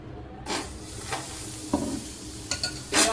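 Besan dosa batter spread in circles on a hot pan gives a soft, steady sizzle broken by several scraping strokes and light clinks of the ladle against the pan, close and without talk.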